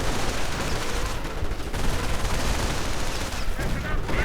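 Gunfire rips through a real-time strategy battle as troops open up on advancing Grenadiers, dense overlapping bursts of rifle and machine-gun fire with booming impacts, loud and continuous throughout.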